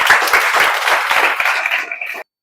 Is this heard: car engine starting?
no